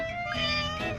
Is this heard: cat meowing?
yes